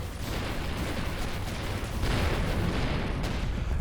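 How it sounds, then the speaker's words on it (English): Heavy weapons fire rumbles continuously in the space combat game Avorion, a dense barrage of booms and blasts that swells louder partway through. "We're under heavy fire!"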